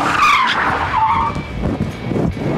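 Car tires skid and squeal during a burnout at the Bondurant Racing School, with sharp screeching bursts over engine noise, loud and close, and no talking.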